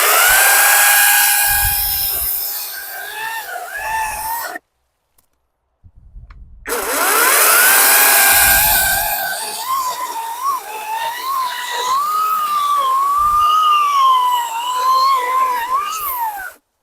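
A 2 kW, 40 V cordless chainsaw whines at high speed and bites into a roughly 20 cm hornbeam or beech log, pitch dropping under load, cutting in two long passes with a brief silence between.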